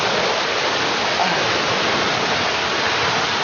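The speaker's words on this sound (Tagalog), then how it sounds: "So, ito pala yung ilog dito na maganda guys" Flowing river in Palawan, a loud, steady, close rush of water that continues without a break.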